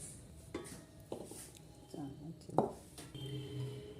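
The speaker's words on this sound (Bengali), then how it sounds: "এখন আমি কড়াইটা নামিয়ে ঘিটা ঢেলে নেব বাটিতে।" A metal wok used to make homemade ghee is lifted off the stove, and the ghee is poured into a bowl. The result is a few faint, quiet metallic clinks and knocks, one sharper clank, and soft pouring, with someone speaking quietly.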